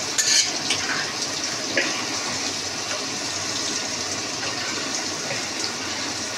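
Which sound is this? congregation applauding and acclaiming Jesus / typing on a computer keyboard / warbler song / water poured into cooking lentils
water poured into cooking lentils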